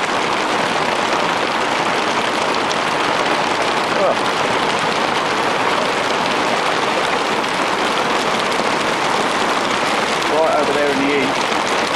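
Heavy weekend rain pours down in a loud, dense, continuous hiss on outdoor surfaces, while someone speaks a few brief words over it.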